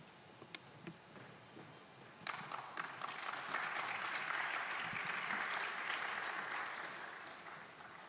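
A few scattered claps at the Nairobi Summit on ICPD25 swell into full audience applause, a broad sustained roar of clapping that holds and then begins to ease.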